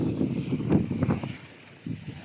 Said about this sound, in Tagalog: Lakas ng ulan, lakas ng kidlat at kulog, lakas ng hangin.